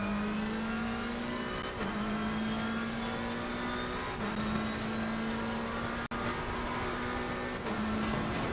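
McLaren race car engine in ACC at Zandvoort, a sustained buzzing drone climbing in pitch through each gear, dropping briefly at every shift, with one sharp click partway through.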